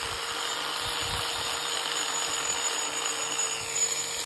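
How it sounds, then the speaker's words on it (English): An angle grinder shaping a wooden railway sleeper, giving a steady, loud, continuous high whine with gritty abrasive hiss throughout. "I did some further shaping with the angle grinder to shape the sleeper how I wanted it."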